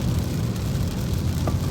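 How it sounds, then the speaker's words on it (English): Heavy rain during a cold coastal storm, a dense continuous roar and patter with low rumbling underneath, steady and loud without any voices. "Also raining a lot harder down here than they said."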